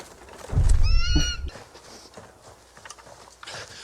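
A single loud horse whinny, wavering and high, lasting about a second, followed by faint ambient noise.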